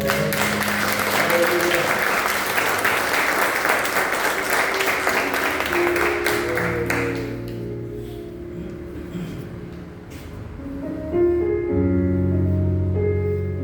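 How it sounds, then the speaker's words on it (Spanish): Strong congregational applause in a church, loud continuous clapping for about seven seconds that then gives way to sustained music and voices. "Vamos a dar un fuerte aplauso al Señor"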